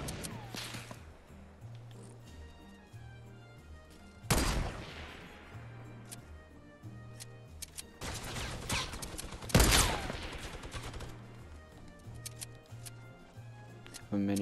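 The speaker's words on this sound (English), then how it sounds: "A minigun." Video game minigun fire breaks out in loud, dense bursts of rapid shots, one near the four-second mark and a longer stretch around eight to ten seconds, over steady rhythmic game music.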